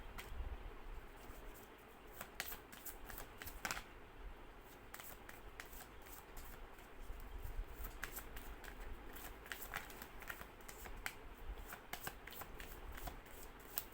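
Tarot cards being shuffled make continuous soft riffling and flicking, close and quiet, with no talking.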